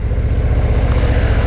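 A 2024 Harley-Davidson cruiser motorcycle engine rumbling steadily at close range, a loud, low, pulsing throb with no other sounds.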